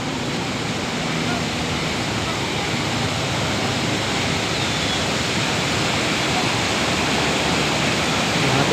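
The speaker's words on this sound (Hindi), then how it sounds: "यहाँ हम पहुँच गए बहुत ही बड़ी नदी के पास।" A large mountain river near Kedarnath in Uttarakhand rushes loudly and continuously, a dense broadband roar filling the whole stretch with no letup.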